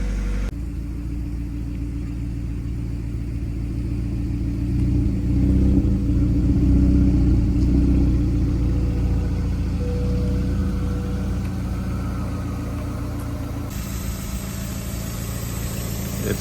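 A Mazda Miata engine with aftermarket coil packs idles steadily after warming up, a low, even rumble, swelling briefly louder midway before settling back into a smooth idle.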